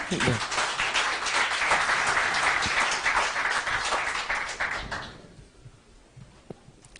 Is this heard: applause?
yes